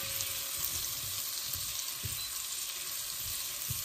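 Butter sizzling steadily in a pan on the stove for alfredo sauce, a continuous close frying hiss with a few soft low knocks, heard alone without talk.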